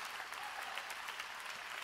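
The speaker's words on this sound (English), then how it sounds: "There's a hand clap moment right there." A church congregation claps together, a dense, steady wash of applause that continues evenly throughout.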